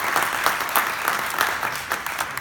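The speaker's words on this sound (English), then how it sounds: "Round of applause, please." A crowd at a press conference gives a round of applause, moderately loud and steady with individual claps standing out throughout.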